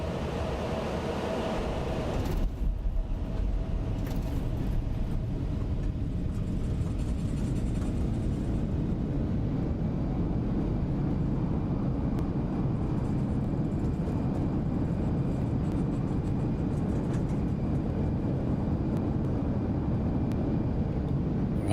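Steady jet engine roar and rumble of an Embraer E175 after landing in X-Plane 12, a loud continuous drone with a brief thump near the start, no speech.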